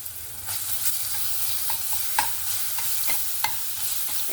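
Ground garlic fries in oil with a steady hiss, while a ladle scrapes and taps the pan at irregular intervals, close-up and moderately loud with nobody speaking.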